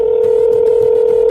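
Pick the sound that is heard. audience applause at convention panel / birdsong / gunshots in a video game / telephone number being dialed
telephone number being dialed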